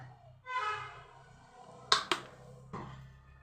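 Mustard seeds pop in hot oil: a few sharp, close cracks at irregular intervals over a quiet background, after a brief humming tone.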